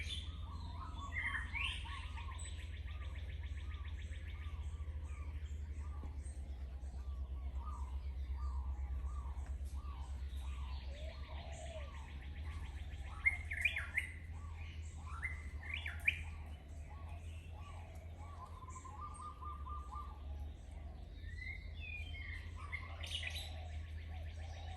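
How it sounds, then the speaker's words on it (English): Many small birds chirp and tweet in repeated bursts over a steady low outdoor hum, with doves drawn to scattered birdseed nearby; the calls are moderately loud, with a few sharper squawks partway through. "I hope you enjoyed the sounds of the birds this morning. I did put some birdseed down and the doves are coming in."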